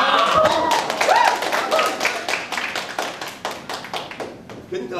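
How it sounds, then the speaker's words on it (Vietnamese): A theatre audience at a 1998 stage production claps in a run of sharp, uneven hand claps that gradually thin out, heard close and loud with a voice speaking over them. "Một lần nữa, chúng ta hãy tự cho nhau một tràng pháo tay."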